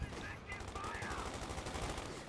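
Fallschirmjäger paratroopers open fire in a Company of Heroes 2 1v1 match, with quick bursts of rapid rifle and machine-gun shots crackling over a busy battlefield background.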